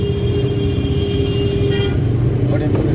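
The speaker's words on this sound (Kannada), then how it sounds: "ನೋಡಿ ಬ್ರಿಡ್ಜ್ ಮೇಲೆ ಹೆಂಗೆ ಜಾಮ್ ಆಗಿದೆ" Traffic jam on a bridge on the Sarjapur to Marathahalli route, a dense rumble of idling engines and road noise with a sustained car horn toot, steady and close.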